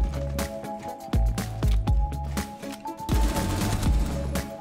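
Rapid gunfire in a first-person shooter game, loud bursts of close shots landing in uneven clusters, with a faint steady tone under the shooting.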